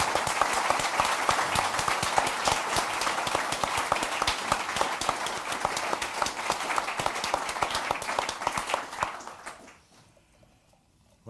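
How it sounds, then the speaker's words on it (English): Loud, sustained applause from a large audience for Lee Kuan Yew at Arundel House, London, 2008, dense clapping that continues steadily for about ten seconds before fading out to near silence. "I think the applause says it all."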